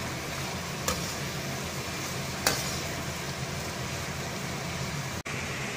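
Vermicelli upma with peas being stirred in a pan, a low continuous scraping hiss with a couple of sharp spoon clinks against the pan, no talking.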